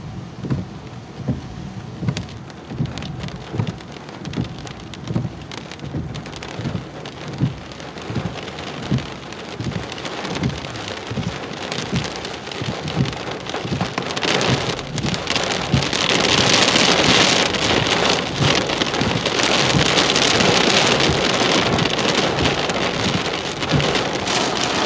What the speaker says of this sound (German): Jetzt setzt länger anhaltender Platzregen ein